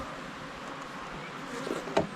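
Bees hum in a steady, close swarm around a fresh piece of honeycomb, with a single louder buzz passing near the end.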